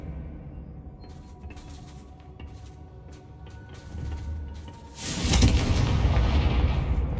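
A fiery Confringo spell from Hogwarts Legacy ends in a loud, sustained explosive roar that swells abruptly after a quieter stretch of softer crackling game effects.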